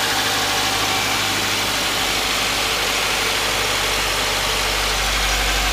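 A 2014 Subaru Legacy with a 2.5 liter boxer engine idles steadily, a smooth close and even hum with a low rumble that stays constant throughout, no voices.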